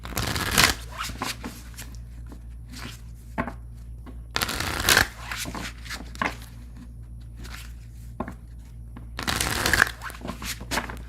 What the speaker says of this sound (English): I'm going to shuffle and move on to the air signs.